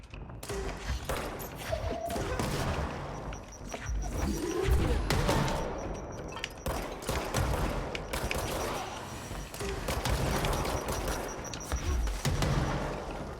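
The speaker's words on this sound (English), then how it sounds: "Have a grenade." A firefight in the video game Control, with continuous rapid gunfire, heavy thuds and grenade blasts layered into a loud, busy din that barely lets up.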